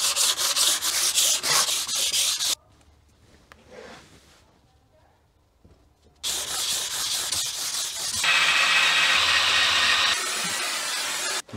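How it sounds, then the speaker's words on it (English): Steady abrasive rubbing of 400-grit sandpaper on a sanding block against a Classic Mini cylinder head, close and fairly loud, in long continuous strokes with a short quiet pause partway through. "I'm gonna softly use a bit of sanding paper with a sanding block"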